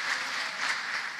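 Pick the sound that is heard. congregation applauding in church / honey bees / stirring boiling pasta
congregation applauding in church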